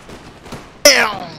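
A single sharp gunshot cracks out in Mount & Blade: With Fire & Sword multiplayer, followed by a ringing, decaying tail. Faint talk and game noise come before it.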